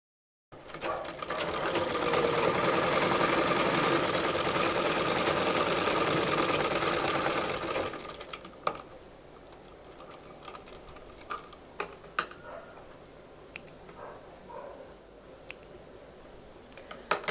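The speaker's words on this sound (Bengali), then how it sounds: "তারপর সেলাইটা করব।" An electric sewing machine stitches the hem of a six-panel petticoat, giving a loud, steady, rapid mechanical whir for several seconds, then it stops and scattered faint clicks and handling taps follow.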